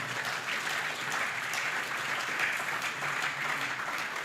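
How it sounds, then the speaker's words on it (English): An audience at the Rethink Africa 2025 conference applauds its panelists, a dense, even burst of clapping from many hands that holds steady throughout. "Please clap for my panelists."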